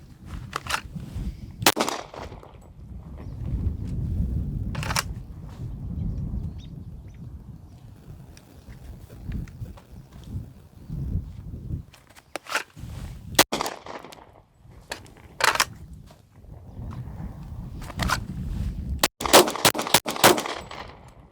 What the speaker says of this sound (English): I'm going to show you how I draw and shoot.